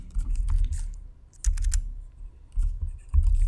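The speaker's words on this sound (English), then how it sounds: "So I'll type in X equals X match," Typing on a computer keyboard while entering a spreadsheet formula, heard as bursts of rapid close key clicks separated by short pauses.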